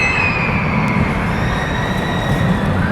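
A Gerstlauer roller coaster train on the Shellraiser ride at Nickelodeon Universe, American Dream, rumbles past loudly and continuously with a high metallic whine over the roar.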